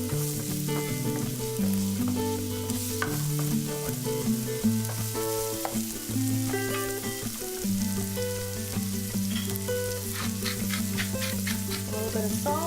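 Lemon garlic green beans sizzle steadily in a pan for a salmon cake meal, a continuous bright frying hiss with occasional stirring, while background music plays throughout.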